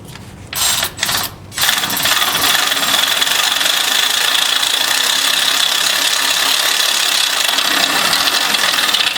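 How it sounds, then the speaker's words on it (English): A homemade 1975 Dodge tow truck engine, a few short rough bursts that catch into a loud, steady, close-up running roar that holds without a break, with no talking. "I'm just gonna have to crank it up, put it in gear."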